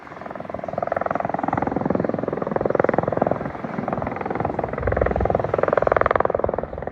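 A tour helicopter near Tusayan at the Grand Canyon approaching to land, its rotor thumping in a fast, even pulse that swells louder and closer, with faint voices in the background.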